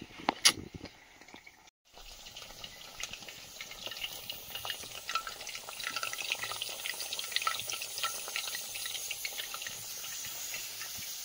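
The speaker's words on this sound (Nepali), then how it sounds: "यहाँ चाहिँ माछा फ्राई हुँदैछ साथीहरू हाम्रो अर्ग्यानिक चुलामा" Fish frying on a wood-fired clay stove gives a steady near hiss and sizzle, with a few sharp clatters at the start and a short dropout before the frying noise builds and holds.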